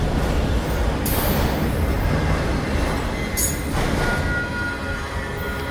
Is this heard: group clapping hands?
no